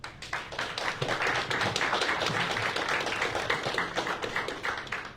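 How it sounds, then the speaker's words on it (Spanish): An audience at a lecture on Alfonso Reyes breaks into a strong round of applause, dense rapid clapping at a fairly even level from start to finish, with no talking over it. "para quienes pido un fuerte aplauso"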